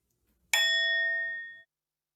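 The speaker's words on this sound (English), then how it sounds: "Bell rings, rang, rung." A bell is struck once, a sudden bright ding that rings with a clear sustained tone and fades over about a second in otherwise quiet surroundings.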